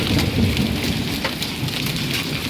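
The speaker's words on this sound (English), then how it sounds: "That's penny-sized hail, it looks like." Penny-sized hail falls during a thunderstorm in Spring Hill, Florida, a dense, steady roar of hailstones drumming on surfaces with low thunder rumbling underneath and no talking.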